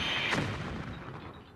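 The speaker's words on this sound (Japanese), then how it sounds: "悪役が乗った電車が建物に突っ込み爆発するこのシーン" A train slams into a building and explodes in the Star Fox 64 remake, a loud burst that tails off slowly into a fading rumble.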